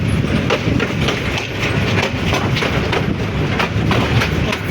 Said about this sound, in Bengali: একটা গাইবান্ধা রেলওয়ে স্টেশন ইন করলাম